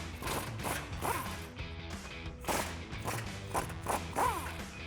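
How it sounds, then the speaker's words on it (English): A ratchet wrench with a 21mm socket turning bolts on the front bumper of a 2015-2025 Ford F-150 pickup, giving repeated clicking pawl strokes with metallic clanks in an uneven rhythm, fairly quiet and without talk. "take that same 21mm socket to remove these."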